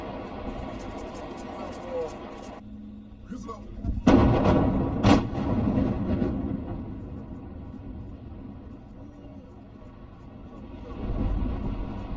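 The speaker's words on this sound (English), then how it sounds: "What you're seeing is the largest cooling tower demolition in Chinese history." The largest cooling tower demolition in Chinese history sets off a sudden, heavy explosive blast followed by a second sharp crack and a long, low rumble of the collapse, heard at a distance alongside people talking.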